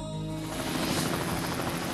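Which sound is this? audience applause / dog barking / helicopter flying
helicopter flying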